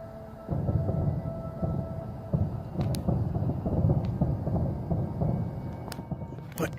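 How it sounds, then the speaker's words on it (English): Thunder rolls through a stormy night sky during lightning, a low rumbling that swells and lingers for several seconds, with a few sharp cracks layered over the deep steady roar. "Lightning and thunder."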